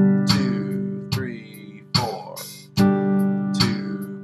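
A guitar is strummed in whole notes, five separate chords each ringing out fully before the next sharp attack, played close and alone.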